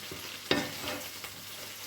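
Fish frying in an electric pan, a steady soft sizzle with a few sharper spatters and pops, one louder crackle near the start, continuous and close with no talking.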